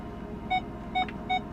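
A 2012 Nissan Titan's parking sensor beeps three times in an even rhythm, short clear tones over a low engine hum inside the cab.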